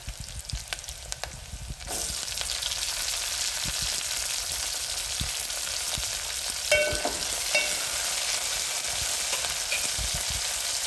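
Potatoes fry for a soybean pulao, giving a steady close sizzle in a pan while a spoon stirs through them with occasional scraping knocks. No one speaks.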